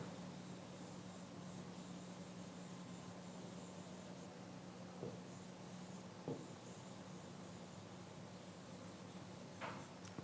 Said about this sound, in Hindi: रामेश्वर शब्द हम ऐसे लिखेंगे